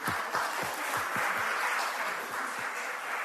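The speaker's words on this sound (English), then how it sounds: "Another clap." Audience applause at a women's reading event, steady dense clapping from a room of people, moderately distant and even in level for its whole length with no talk over it.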